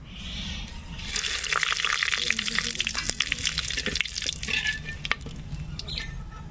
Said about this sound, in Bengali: মাটির হাঁড়িতে তেল গরম হয়ে গিয়েছে ফোড়ন দেবো গোটা লঙ্কা গোটা এলাচ দারচিনি তেজপাতা শুকনো লঙ্কা